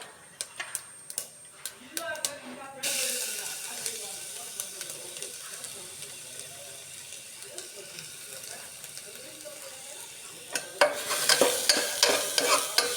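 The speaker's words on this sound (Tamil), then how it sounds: "பச்சை வாசனை போகிற வரைக்கும் கிளறி விடணும்." Grated beetroot stirred in a hot pan for beetroot rice, a steady frying sizzle with repeated scraping clicks of the spoon, louder toward the end, with a brief stretch of speech.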